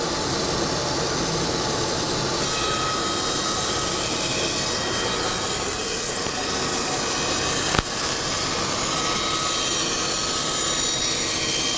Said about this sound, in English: Lock it down, turn on the feed control, and of course turn on the bandsaw. And now we're gonna be feeding this in.